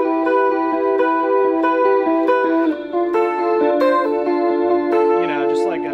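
Electric guitar plays a string of clean, ringing notes through a warped vinyl effect pedal, its pitch gently wobbling with a chorus-like shimmer, steady and up close.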